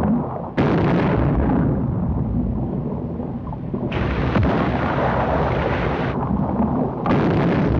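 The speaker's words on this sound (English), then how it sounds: "Torpedoes explode halfway to the target." Torpedoes detonate short of their target in a submarine war film set in the Pacific, a heavy, sustained rumbling roar that surges anew at several points and fills the whole stretch without any voices.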